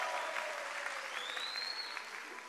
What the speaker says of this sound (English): Somebody should have clapped to the Lord.